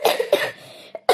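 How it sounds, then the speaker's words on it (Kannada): An elderly woman coughs hard in several harsh, closely spaced bursts with a brief pause before a final cough, close and fairly loud, in a rainy-season setting. "ಕಡು ಕೆಮ್ಮಿ"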